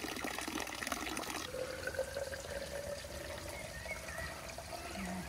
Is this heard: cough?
no